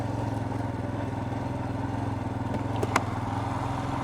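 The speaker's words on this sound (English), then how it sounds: "Now I'm on an adventure motorcycle here with mega suspension." A steady, rumbling adventure motorcycle engine idles or rolls along a village street at low speed, constant and close, with a brief clatter near the end.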